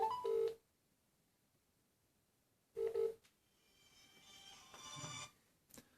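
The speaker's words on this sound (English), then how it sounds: "Firstly, when I ring the phone," An Easy Mobile push-button phone sounds two short electronic ring bursts separated by a pause, followed by a softer rising hiss and a faint final blip, with no one talking.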